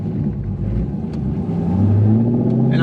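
A cammed C5 Corvette Z06 V8 idling with a choppy, uneven lope, then the revs rise into a louder, deeper rumble, close up, with no talking.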